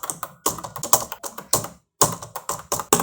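A computer keyboard is typed on in quick irregular bursts of close, crisp key taps, with a short pause midway before the clicking resumes, and nothing else audible.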